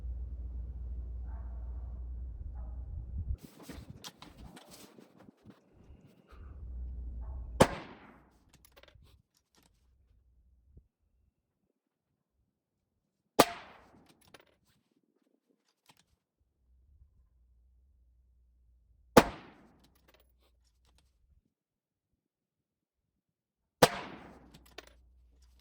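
Four sharp .223 Rem rifle shots with 55 grain bullets are fired at a 300-yard target, spaced several seconds apart with quiet gaps between them, after a brief stretch of low handling noise at the start.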